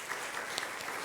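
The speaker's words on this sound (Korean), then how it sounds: "우리 박수로 한번 환영하겠습니다" A church congregation applauds during a Sunday morning service at a Korean church in Chile, a soft, steady wash of clapping heard from a distance without talk.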